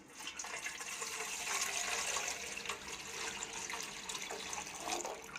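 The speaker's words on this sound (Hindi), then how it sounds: "इसके अंदर फिर आपने पानी ऐड कर देना है।" Water is poured into a pot holding whole spices such as cinnamon, cloves and star anise, a loud steady splashing gush lasting several seconds without speech.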